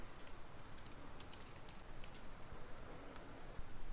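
Faint keystrokes on a computer keyboard, a sparse run of light clicks scattered over about four seconds against a soft background hiss, with no voices.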